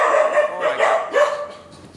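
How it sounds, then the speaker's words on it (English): Dogs barking close by in a quick run of sharp, loud barks and yips with no other sound around them. "sorry about my dogs."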